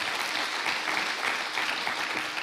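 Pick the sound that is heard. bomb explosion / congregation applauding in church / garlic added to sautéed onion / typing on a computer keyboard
congregation applauding in church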